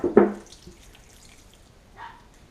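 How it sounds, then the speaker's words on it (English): Water poured into a container to start a batch of apple wine, a short splash at the start followed by a quieter trickle and another brief pour near the end. "So I'm adding about 3 gallons of water to start with."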